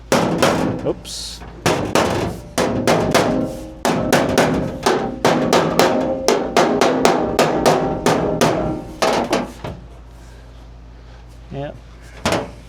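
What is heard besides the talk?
hammer tapping a floor pan brace into place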